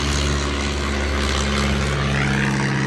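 A loud, droning propeller aircraft passes close overhead, its steady engine hum and buzzing harmonics filling the whole stretch.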